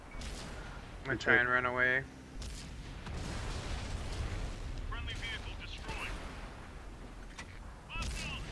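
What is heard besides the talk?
tank cannon fire in World of Tanks video game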